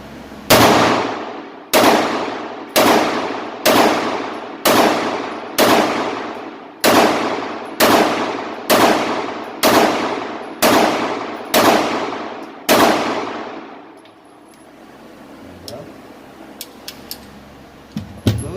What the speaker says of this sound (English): So we'll continue to shoot the center mass.